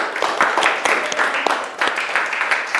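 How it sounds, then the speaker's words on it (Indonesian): A classroom group applauding together, steady clapping from many hands at close range, lasting a few seconds with voices mixed in. "kita kasih aplaus untuk kita semuanya"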